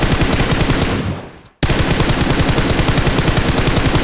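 Rapid automatic gunfire in PUBG Mobile, loud and continuous, broken by a brief silent gap before the burst resumes at the same steady pace.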